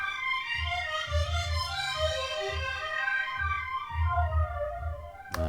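Synth lead built from a preset by Akihiko with tweaked filter settings, playing a bright sustained melodic line over a pulsing low bassline in a neogrime track, loud and continuous with no talking.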